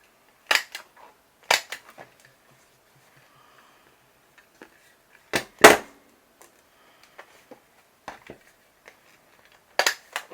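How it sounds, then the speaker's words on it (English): A stapler snaps shut several times as a pocket is fastened to a junk journal page, sharp close clacks spaced out with quiet rustling between them. "so I'm going to staple the pocket on"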